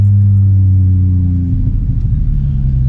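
A Chevrolet Trailblazer with an Atlas 4200 engine, built as a sleeper, launches hard from a standing start. Its deep, loud droning hum gives way to a rough, surging rumble as it pulls away.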